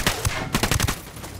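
Several bursts of rapid gunfire in Tom Clancy's Ghost Recon Wildlands ring out in quick clusters, sharp and close, with brief gaps between volleys.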